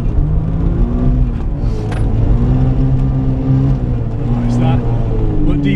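Suzuki Cappuccino Turbo kei car engine revs and drones steadily, with pitch rising and falling as the open differential spins up one wheel, while people talk over it throughout.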